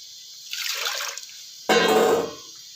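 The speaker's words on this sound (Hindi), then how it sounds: "इसमें हम 2 कप पानी ऐड कर देंगे।" Water poured into a pot on a stovetop while making sweet vermicelli, a short light splash followed by a louder, fuller gush of water lasting about half a second, close and alone.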